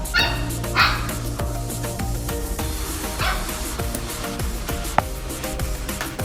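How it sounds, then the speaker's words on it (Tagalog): Two dogs bark and yip repeatedly, fairly close, with short excited bursts over a busy background of household noise. "Ayan yung dalawang aso namin"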